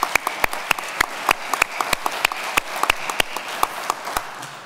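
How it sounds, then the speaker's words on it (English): Applause from an audience at a Parsons College Wall of Honor ceremony, heard as a steady bed of close clapping with sharp individual claps standing out in an uneven rhythm throughout. "just a round of applause for all"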